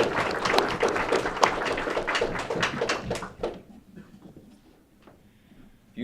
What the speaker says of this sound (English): could we just give everybody a round of applause